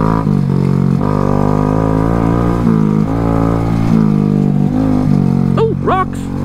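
A Honda Grom motorcycle is ridden down a dirt trail, its small engine droning continuously up close with shifting revs, and someone talks throughout over the engine noise.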